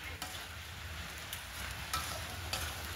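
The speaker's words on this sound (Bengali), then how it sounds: "মা বেগুন ভাজছে" Eggplant (brinjal) frying in a pan at home, with a steady, fairly quiet sizzle and a few light stirring clicks throughout, no one talking.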